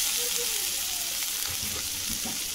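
Chopped, partly boiled potatoes with turmeric and chilli powder fry in hot oil for a singara filling, giving a steady close sizzle with a few stirring scrapes and no talk.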